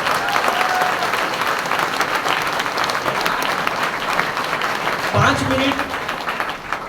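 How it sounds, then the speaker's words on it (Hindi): An indoor audience at a company marketing meeting breaks into loud, sustained applause, dense close clapping that fills the whole stretch and eases slightly near the end. "उनके लिए हमारे पुराने लोग एक बार जोरदार ताली हो जाए"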